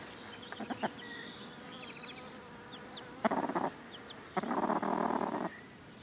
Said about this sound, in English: One's a bumblebee and one's a honeybee.